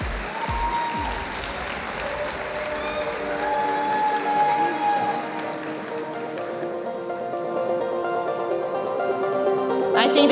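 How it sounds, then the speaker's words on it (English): Applause for student winners at a hair styling competition event in Las Vegas, sustained clapping from a large crowd that swells louder toward the end, with faint cheering mixed in. "please give them a huge round of applause"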